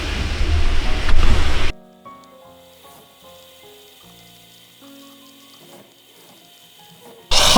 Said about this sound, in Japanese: 雨はまだ止まずということで